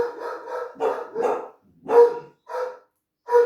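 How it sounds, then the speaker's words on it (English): A dog barks repeatedly at close range, in short bursts with brief pauses between them, and no other sounds in the background. "Sorry about that, that's my dog barking."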